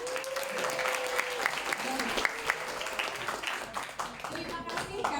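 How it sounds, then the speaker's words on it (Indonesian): Audience applause at an insurance awareness session for high school students, steady clapping from a crowd lasting throughout, with a voice speaking faintly over the noise. "Boleh beri tepuk tangan?"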